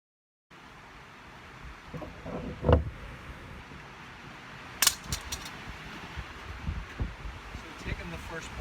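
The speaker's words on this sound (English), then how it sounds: "It's very windy" Steady wind rushes and buffets the microphone, with a few sharp knocks and rattles breaking through the gusty noise.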